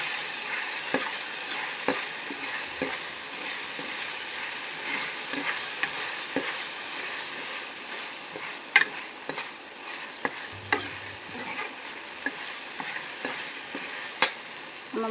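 Ginger garlic paste sautéing in a pan, a steady close sizzle with frequent sharp scraping stirs and clicks of a spoon against the metal, continuous and fairly loud, no speech.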